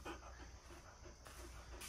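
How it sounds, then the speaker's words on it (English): A dog pants steadily and quietly nearby, a soft rhythmic huffing that runs continuously, with no other sound over it. "Just some panting."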